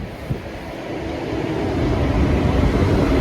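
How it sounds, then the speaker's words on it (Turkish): A train rumbles past at a station in Wolfsburg, a broad steady roar that swells gradually and stays loud to the end, with no talk over it. "Bizim trenimiz mi bu?"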